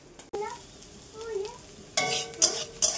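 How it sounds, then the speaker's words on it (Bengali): Onions frying in oil in a home kitchen pan, a close crackling sizzle broken by several bursts as they are stirred and turned, with a faint voice briefly heard. "পেঁয়াজটা ভাজা হয়ে গেছে"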